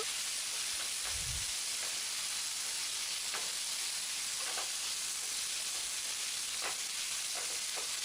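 Chilli chicken gravy fries in a pan with a spoon of vinegar and pepper powder, giving a steady, soft broadband sizzle throughout with a few light stirring scrapes and no talking.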